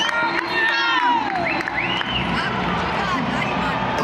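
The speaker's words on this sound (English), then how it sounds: "they're announcing the Stormers team now, and the crowd is cheering for their players" A large stadium crowd roars and cheers continuously at a Stormers vs All Blacks rugby match in Cape Town as the Stormers team is announced, with shouts and whistles rising above the dense wash of noise.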